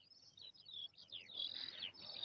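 Birds singing up in a tree, a quick string of bright chirps and warbled tweets, soft and fairly close, repeating in bursts with a quiet background.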